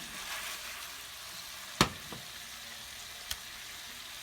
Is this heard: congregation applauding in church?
no